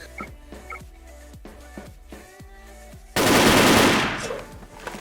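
Rapid automatic gunfire from the Wolfteam online shooter game rattles off in a string of sharp shots, then a loud burst of noisy blast, heard up front with no one speaking.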